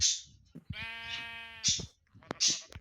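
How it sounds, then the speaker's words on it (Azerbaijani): Minecraft sheep bleating inside a dirt-block house, with a long wavering bleat in the middle and shorter bleats around it, while someone talks over the game sounds. "Qoyun çıx evimdə."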